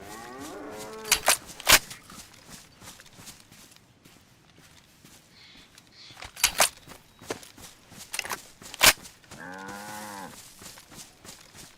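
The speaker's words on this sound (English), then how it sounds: "There's a cow over there." A cow in the DayZ video game moos in long, harmonically rich calls, once near the start and again near the end, with sharp footstep-like clicks between them.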